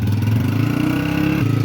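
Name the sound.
motorbike engine started and running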